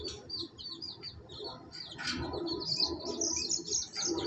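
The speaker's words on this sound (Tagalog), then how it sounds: "And dito yung sisiw natin" Baby chicks chirp in a cage, a cluster of high, close peeping calls overlapping continuously and fairly loud, with no talking.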